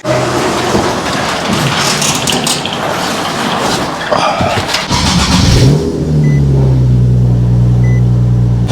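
A lowered Nissan 370Z sports car on BC Racing coilovers runs and revs up close, with road and rain-like noise at first, then settling into a steady low drone.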